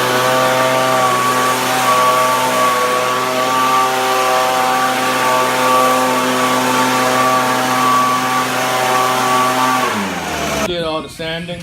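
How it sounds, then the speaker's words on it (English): A small engine-driven leaf blower drones loudly and steadily with a buzzy whine, then the pitch drops as it winds down near the end. "I'm hitting that motherfucker with a blower."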